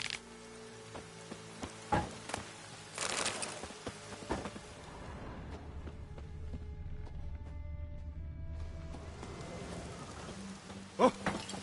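Soft rain patters in The Witcher 3 game world, a quiet, steady wash broken by scattered drips and small knocks, with a brief hollow rumble midway and faint sounds of movement.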